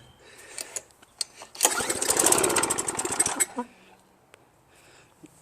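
A Craftsman pressure washer engine, only starting on choke, catches with a sputtering burst and runs roughly for under two seconds before cutting out, framed by faint handling noises before and after.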